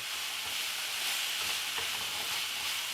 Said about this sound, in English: We're gonna cook this, stirring every couple of minutes or every minute or so for about 5 minutes or so.